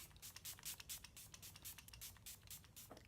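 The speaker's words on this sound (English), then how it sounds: "I am going to set it with some setting spray. I'm going to use the Milani Make It Last spray." Milani Make It Last drugstore setting spray misted from a bottle onto a made-up face: a rapid series of short, close airy hisses in an uneven rhythm, with no voices.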